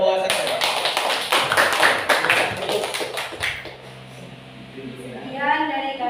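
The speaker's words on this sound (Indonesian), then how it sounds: "Tepuk tangan buat kelompok saya." Brief round of hand clapping from a small classroom group, quick dense claps for a few seconds that fade out, followed by people talking.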